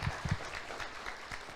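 A church congregation applauds during a sermon. The clapping is faint and distant, a soft diffuse patter with a few slightly stronger claps near the start.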